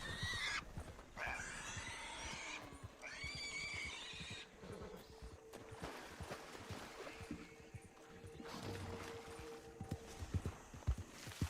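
In Red Dead Online, an Arabian horse whinnies in a few rising calls, then its hooves plod at a slow, calm walk, all quiet and somewhat distant.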